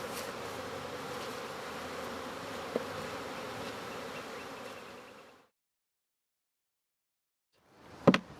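Honey bees buzz around a hive in a queen-rearing bee yard, a dense, steady drone close by for about five seconds, then silence, then a brief loud buzz at the end.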